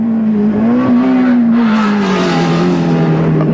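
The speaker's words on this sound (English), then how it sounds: "Jim Richards in the turbocharged BMW" A turbocharged BMW 318i race car engine drones loud and steady at high revs, the pitch sagging slightly as it holds a long pull, heard close from onboard without any voices.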